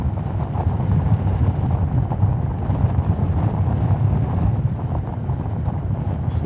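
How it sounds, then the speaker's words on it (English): Fierce wind at an airport at night roars in a steady, loud, low rumble and buffets the microphone without letup, with no voices. "So the wind is getting fierce."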